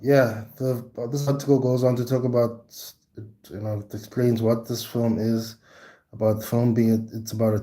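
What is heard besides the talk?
None of the usual background noises is heard.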